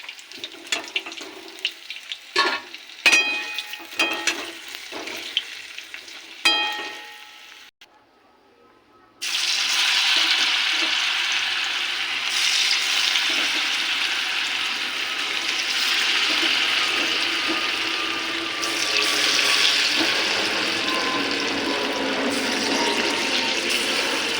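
Cauliflower pakoras fry in hot oil, giving a steady broadband sizzle for most of the clip. Before that come a run of sharp clicks and taps from handling the pan, then a brief near-silence.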